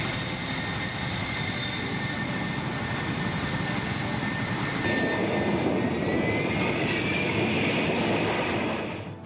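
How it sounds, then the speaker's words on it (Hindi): J-20S and J-35 fighter jets fly over a Chinese military parade, a loud continuous roaring jet rumble that holds steady for about nine seconds and fades slightly at the end, with no voices. "ट्विन सीट J-20S और J-35 फाइटर जेट।"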